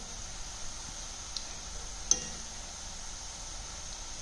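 Potato sev frying in a pan, a soft steady sizzle with one sharp click midway as the pieces are turned over, no voices.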